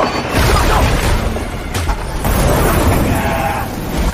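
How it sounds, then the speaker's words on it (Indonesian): A gas cylinder is detonated against an armoured heavy vehicle in a war film battle scene, producing a loud, sustained rumbling blast roar that fills the whole moment before cutting off abruptly. "mereka menggunakan tabung gas untuk meledakkan alat berat yang telah dilapisi baja pelindung"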